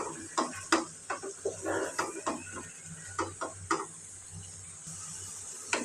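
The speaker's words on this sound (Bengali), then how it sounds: "এখন আমি ভালোভাবে সবজিগুলি কষিয়ে নিব" Vegetables being sautéed in a pan, with a spatula scraping and clinking against the metal in irregular strokes over a faint background sizzle, close and moderately quiet.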